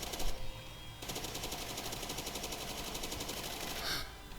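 Rapid gunfire from a weapon shooting zombies in the video game Zombie Uprising, a dense steady burst of shots running for several seconds at moderate loudness, alone without talk.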